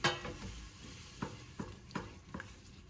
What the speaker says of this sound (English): And now I am going to add in the milk. And you must keep stirring.